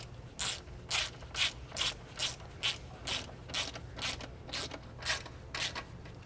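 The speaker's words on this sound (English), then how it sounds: "as I'm tightening or threading in those forward bolts" Ratchet clicking in about a dozen quick, evenly paced bursts while threading in the forward subframe bolts on a 2008-2013 BMW E90 M3, close and clear with no talking.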